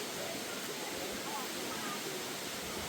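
Hot spring waterfall in Krabi, Thailand, a steady broadband rush of falling water that holds constant and close throughout, with no other sounds standing out.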